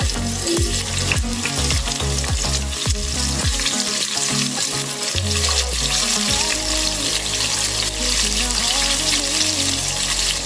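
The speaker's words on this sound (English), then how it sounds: "So the oil is hot enough. I'm going to add in some onions." Onions tossed into hot cooking oil in a pot hiss and crackle loudly and steadily, with a dense frying sizzle heard close up and no voices over it.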